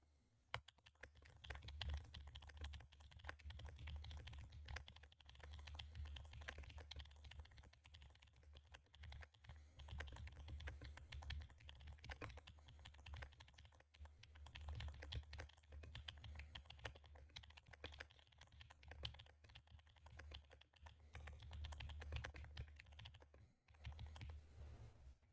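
Rapid, continuous keystrokes on a computer keyboard during a TypeRacer typing race, a dense steady clatter close up and alone, with no pauses over the whole stretch.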